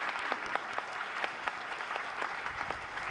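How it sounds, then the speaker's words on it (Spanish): An audience at a summit event claps in steady, sustained applause to welcome a speaker, a dense patter of many hands heard at moderate distance with no talk over it. "Por favor, démosle un gran aplauso de bienvenida a ella."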